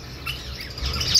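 Red-rumped parrots at a bird exhibition give short squawking chirps, a few brief calls over low background hum, fairly close.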